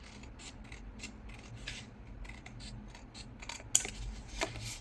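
Scissors snip repeatedly at paper in quick, quiet cuts, a steady rhythm of close crisp clicks and rasps with no talking.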